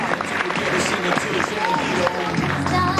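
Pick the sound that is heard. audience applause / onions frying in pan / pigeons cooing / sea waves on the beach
audience applause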